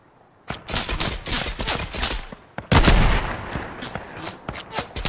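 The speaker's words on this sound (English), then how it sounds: "They were all blank shots." Gunfire in the Fortnite video game: a rapid burst of loud, close shots, a brief pause, then another heavy volley that thins out into scattered single shots, with no voices.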